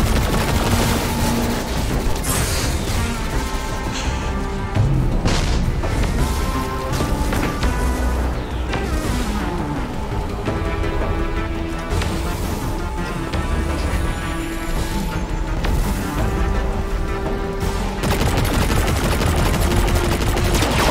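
Steady weapon fire at an enemy in Destiny 2, loud rapid bursts and sharp shots with occasional crashes, almost continuous over a game soundtrack and with hardly any talk.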